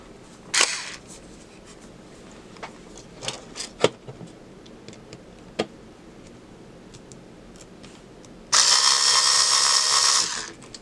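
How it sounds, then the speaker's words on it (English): A small electric screwdriver drives a screw into a Blythe doll's head, a steady close whirring burst lasting about two seconds near the end, after scattered light clicks and handling taps. "Then I'm going to get my little electric screwdriver."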